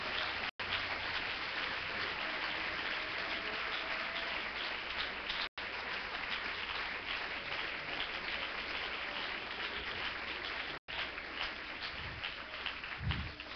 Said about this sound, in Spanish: Denle este aplauso a Jesús